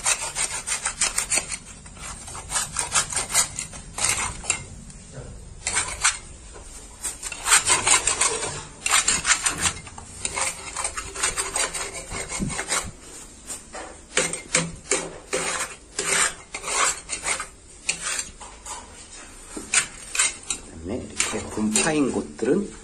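Scraping tool dragged firmly across a balcony wall to strip old paint before repainting, heard as repeated rough rasping strokes in irregular bursts while someone talks over the work.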